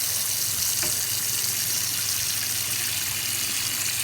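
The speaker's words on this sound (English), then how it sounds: "Now I'm going to fill this up with more warm water." Warm water runs steadily from a tap into a bucket, a continuous broadband rush with no talking, while a Hoover Commercial C1310 outer cloth bag is being washed.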